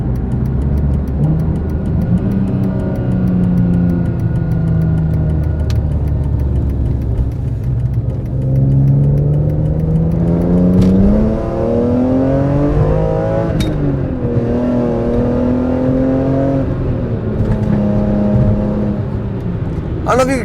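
BMW E46 M3 with SMG transmission and tuned software, engine revving loudly and steadily with rising pitch, then dropping sharply as gears shift, heard close and continuously throughout.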